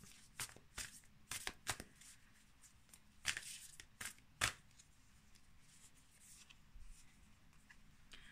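Soft, quiet riffling and flicking of tarot cards being shuffled in several quick bursts with pauses between, close by and with no talking.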